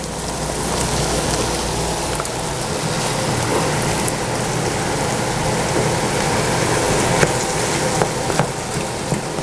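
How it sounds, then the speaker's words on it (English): Ground beef sautés in a pan with tomatoes and onions, giving off a dense, loud, even sizzle that hisses continuously at close range. No voice is present. "now I'm going to add my ground beef to this, and we're going to saute that until it's done"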